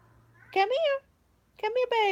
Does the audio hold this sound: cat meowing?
yes